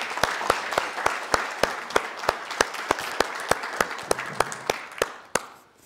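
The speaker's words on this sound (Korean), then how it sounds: "나오실 때 큰 박수로 맞이해주시기 바랍니다." Steady applause from a forum audience welcoming a speaker, with regular sharp claps standing out, holding for several seconds before fading away at the end.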